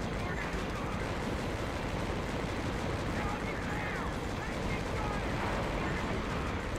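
Gunfire rattles through a Conflict: Desert Storm 2 battle scene, a dense unbroken wash of shots and blasts at steady loudness with faint voices buried in the din.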